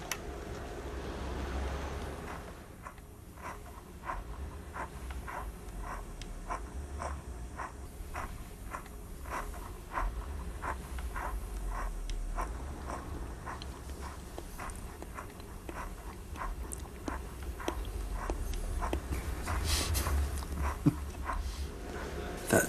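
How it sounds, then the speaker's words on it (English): Recorded apple crunching, a steady run of sharp, evenly spaced bites and chews repeating for over twenty seconds at a brisk rhythm over low background rumble, close and fairly clear. "with the sound of apples being crunched"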